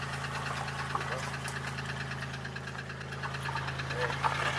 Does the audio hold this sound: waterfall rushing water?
no